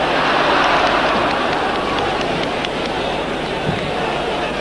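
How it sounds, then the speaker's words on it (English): A large, packed football crowd at Elland Road, Leeds, during a 1988/89 match against Bradford City, roaring as a dense, steady wall of noise that swells slightly at the start and holds throughout. "It's a long time since I've seen a crowd as large and as noisy."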